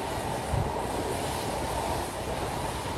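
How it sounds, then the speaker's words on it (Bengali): The Sundarban Express runs on the rails between Dhaka and Kushtia, heard as a continuous loud rumble and rattle of rolling carriages from onboard, with no talking. "আমার লাইফের one of the best train journey experience হচ্ছে আজকে।"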